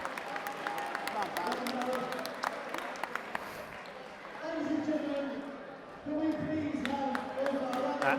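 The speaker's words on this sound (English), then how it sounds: "Listen to this crowd now for Dave Winter." A fight crowd at an Apocalypse Fight Series boxing event cheers and applauds for boxer Dave Winter, a loud, sustained roar with scattered clapping and shouts swelling again near the end, a commentator speaking over it.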